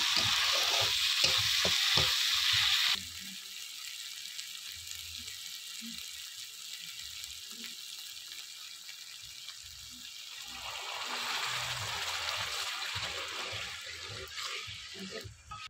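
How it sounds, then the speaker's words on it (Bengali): Hot water poured into sizzling masala for a katla fish curry: loud frying with a rushing pour for the first few seconds, then a quieter simmer with light clinks before the bubbling swells again. "মশলাটা কষানো হয়ে গেছে, এবার দিয়ে দেব গরম জল"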